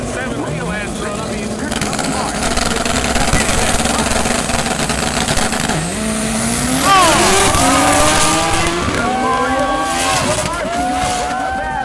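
A drag racing car roars down the racetrack on a full pass, its loud engine climbing through rising gear sweeps close by, with excited voices shouting over the run.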